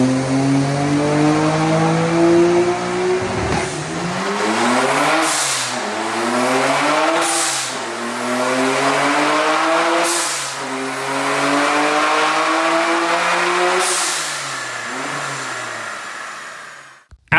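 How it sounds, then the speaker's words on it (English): A rebuilt Nissan R33 GT-R with an upgraded clutch and injectors runs loud and close on a dyno. The engine climbs through several gears in repeated rising sweeps, and sharp gearshift breaks and bursts of turbo hiss come between the pulls. "So we pulled the car back onto the dyno for the first time since the rebuild was done."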